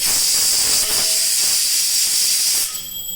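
Loud, steady hiss of steam escaping from a pressure cooker of boiled potatoes, cutting off sharply near the end and leaving a quieter tail.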